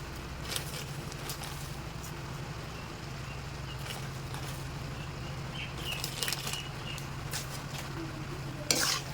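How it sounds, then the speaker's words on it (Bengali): Village-style chicken kosha cooking in a pan, a soft steady sizzle with occasional scrapes and stirring clatters over a low background hum, fairly faint and without talking. "তারপর আবার একটু নাড়াচাড়া করবো"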